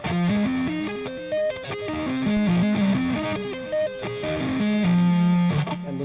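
Distorted electric guitar sweep-picking a major arpeggio, quick rising and falling note runs in a steady stepped rhythm, close and loud, ending on a sustained low note.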